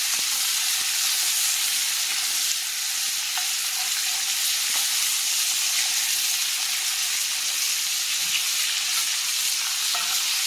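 Breaded hamburger steaks fry in a 10-inch iron skillet, giving a steady, close, continuous sizzle with faint crackles and no talking.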